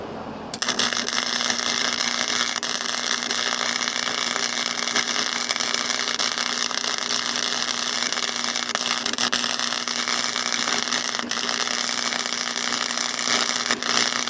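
Arc welding on rusty steel during a trail camera box build, a steady crackling buzz running continuously and loud for the whole stretch after a brief quiet start.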